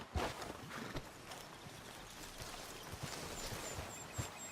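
Horse hooves clip-clop in Red Dead Redemption 2 in a steady walking rhythm, moderately close, over a soft outdoor ambience.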